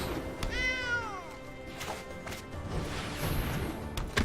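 A cat's meow plays as a card-game sound effect for the Sanctuary Cat card in MTG Arena, a single rising-falling cry near the start followed by a few thuds and clatter.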